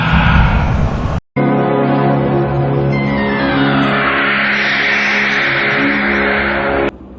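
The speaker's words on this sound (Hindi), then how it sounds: "गाड़ी अपनी सरपट रफ्तार पर दौड़ी चली जा रही थी।" A car races along at full speed, its engine a loud, sustained roar with a pitch that slowly rises and falls. A brief dropout breaks it near the start, and it cuts off sharply near the end.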